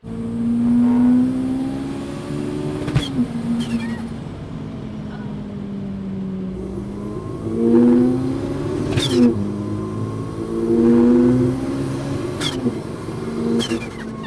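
A turbocharged Golf rally car revs hard through repeated rising engine sweeps as it accelerates through the gears, loud and close, with sharp bursts between pulls and faint voices in the background.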